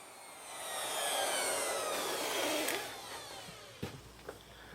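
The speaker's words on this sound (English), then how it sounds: "I'm cutting a 3/8 inch deep dado, and that router has no problem at all" A router cuts a 3/8 inch deep dado in wood, a loud, close, airy whine that swells and holds for a few seconds before easing off, ending with a couple of sharp clicks.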